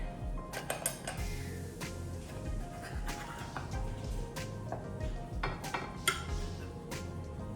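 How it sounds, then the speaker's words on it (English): A big spoon scrapes and clinks against a dish while scooping out a ground beef shepherd's pie, a run of quiet irregular metallic taps and scrapes at close range. "I'm just going to use a big spoon and try and get this out"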